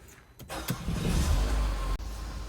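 A Mercedes A/B/GLA-Class engine with an oil control valve fault cranks briefly and catches, settling into a loud, steady idle rumble close by, with a sharp click near the end.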